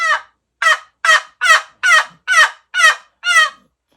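A wooden turkey call makes eight loud, raspy calls in a steady rhythm, each a short scratchy burst with pauses between, close and clear with no background.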